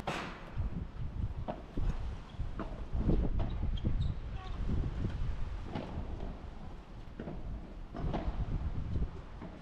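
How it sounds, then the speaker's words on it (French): Wind blowing across an outdoor padel court buffets the microphone in a steady, rumbling roar with gusts rising and falling, and no talking. "Le vent."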